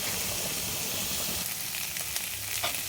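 A cauliflower curry is stirred in a hot pan, giving a loud, steady sizzle and hiss with a few soft scraping stirs; no one speaks.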